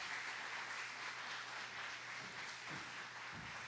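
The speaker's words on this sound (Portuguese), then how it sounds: "Uma salva de palmas ao Senhor" Distant, soft applause from a church congregation, a steady wash of many hands clapping without pauses.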